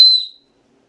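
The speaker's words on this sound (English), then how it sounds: "However, this whistle," A whistle from a Bear Grylls fire starter kit gives one short, loud, shrill tone that quickly fades, followed by silence.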